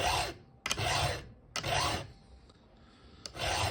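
A hand file sharpens a chainsaw chain in four slow, rhythmic rasping strokes with short pauses between them, close and fairly quiet.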